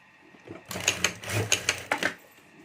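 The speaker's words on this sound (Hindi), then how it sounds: "और यहाँ हमें सिलाई कर देनी है।" A sewing machine stitches a handle strip onto a fabric pencil pouch, running in a quick, close rattling burst of rapid needle strokes with a few distinct louder pulses before stopping.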